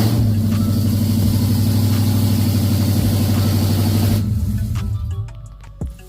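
A Ford F100 with a swapped-in Coyote V8 runs loud and raw through open headers, a steady close rumbling idle that cuts off near the end, leaving quiet clicks.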